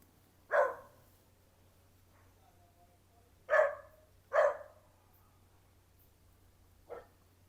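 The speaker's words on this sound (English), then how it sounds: "dog, shut your mouth before I come box in your teeth" A dog barks outdoors in a Jamaican setting: four sharp, separate barks, loud and fairly close, spaced a few seconds apart over a quiet background with a steady low hum.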